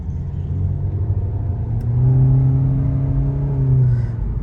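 Inside a 2023 Hyundai Elantra, the engine hums and rumbles as the car accelerates, a low drone rising steadily in pitch over a few seconds beneath road noise.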